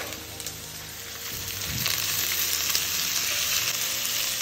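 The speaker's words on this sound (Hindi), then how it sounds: "मैं डाल रही हूँ प्याज। जब प्याज हमारे अच्छे से पक जाएंगे तब मैं इसमें डालूंगी मसाला।" Onions frying in a pan for a bhindi fry, a continuous close sizzle that swells a little louder partway through and stays steady, with a few faint utensil touches and no talk.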